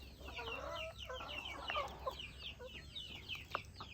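Laying hens cluck and chatter in a busy coop, with overlapping short calls and chirps close by over a steady low rumble.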